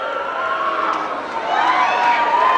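An award show audience boos Eminem, a sustained, wavering crowd drone that swells slightly toward the end.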